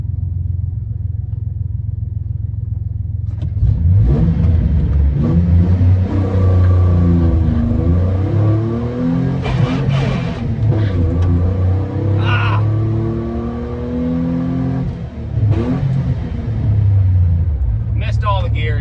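A stock 4.3 V6 1500 pickup truck launches down a quarter-mile drag strip, its engine rising through the gears with loud, climbing revs and gear-shift breaks, then fading; someone talks near the end.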